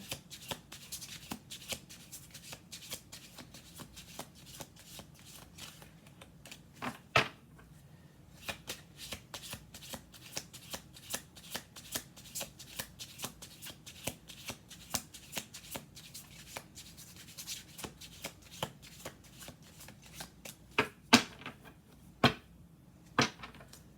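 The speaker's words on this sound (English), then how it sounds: "Seven cards on the table. We'll do 2 more shuffles here." Playing cards are shuffled repeatedly, a run of crisp riffling flutters and snaps at close range, quiet and without any talking.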